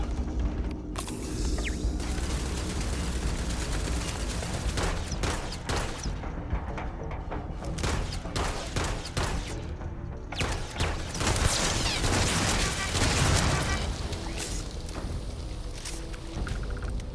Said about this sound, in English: This pistol is fucking fantastic.